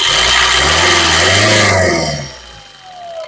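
A 2016 Maruti Suzuki S-Cross starts on a single crank, its engine roaring loudly, settling into a lower steady idle after a couple of seconds, close by with no talk.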